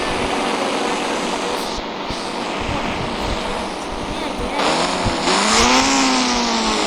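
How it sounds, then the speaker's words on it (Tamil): A motorbike engine in an Indian bike video game drones steadily and loudly, then revs near the end with a clearly rising pitch. "வண்டியோட சவுண்ட் இருக்கும்."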